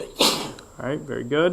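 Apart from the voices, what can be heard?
sneeze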